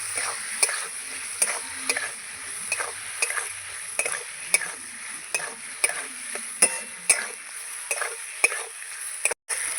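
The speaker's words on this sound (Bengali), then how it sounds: "এবার কষাবো আলুর সঙ্গে আর মশলা একসঙ্গে কষিয়ে নেবো" Potatoes and spices stir-fried together in a pan, a soft sizzle broken by regular scraping knocks of a spatula against the metal roughly every half second, close and unhurried, with no talking.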